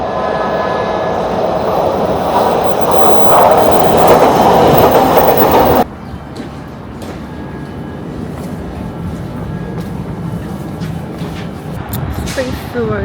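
A JR local train near Kitakyushu, Japan runs on rails with a loud, steady rumble and rattle that drops off sharply partway through, then continues more softly with faint clicks.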